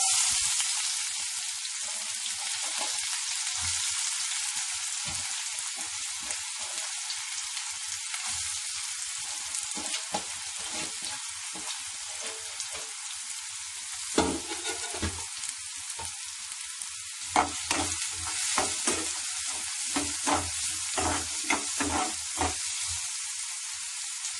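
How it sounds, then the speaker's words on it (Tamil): Chopped onions fry in a little hot oil with a continuous close sizzle, later joined by scraping and stirring clatter as the pieces are moved around the pan, with no voices. "கொஞ்சமாக எண்ணெய் விட்டுருக்கேன் சூடாயிடுச்சு இப்போ நெருக்கி வச்ச வெங்காயத்தை போட போகிறேன்"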